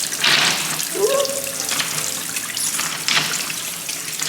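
Cold water sprays steadily from a walk-through shower in a five-star hotel spa in Turin, Italy, a continuous close hiss with brief surges as someone passes through.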